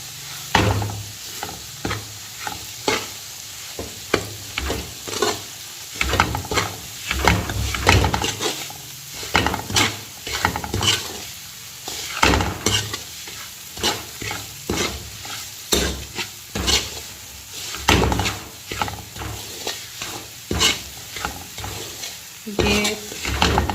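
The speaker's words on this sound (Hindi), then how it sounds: "अब हमने इसके अंदर सूजी को इस घी के अंदर भूनना है।" Semolina stirred and roasted in ghee over a medium flame for a Pakistani suji halwa, with a steady soft sizzle under repeated scraping strokes of a spoon against the pan, close and fairly loud.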